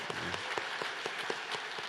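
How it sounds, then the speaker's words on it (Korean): Church congregation applauding together during a Sunday service to welcome newly ordained elders, a steady, dense wash of clapping with sharper individual claps standing out, filling the room throughout. "우리 큰 박수로 환영하겠습니다"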